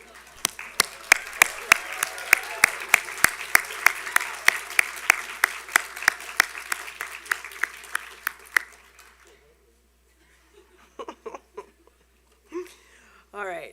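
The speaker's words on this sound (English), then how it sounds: "I'm going to offer you the opportunity to applaud the faculty and staff who provided you an excellent educational experience" Physical therapy graduates at a commencement ceremony applauding their faculty and staff, with sustained clapping and sharp individual claps for about eight seconds, then quiet with a few scattered sounds and a brief voice.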